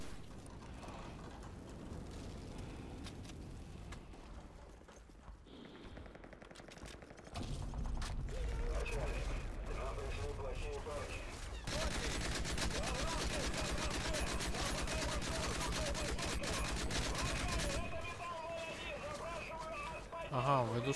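Gunfire in Call of Duty: Modern Warfare 3 comes as rapid, rattling automatic bursts, quiet and somewhat distant under a steady mechanical din, most intense in the second half while voices speak.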